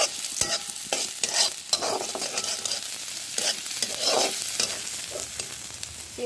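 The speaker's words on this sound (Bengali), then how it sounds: "এই পেঁয়াজটা ভেজে আমি উঠিয়ে রাখবো" Onions frying in a pan for a mixed vegetable curry, giving a loud, continuous sizzle broken by repeated scraping strokes of stirring, close up and without voices.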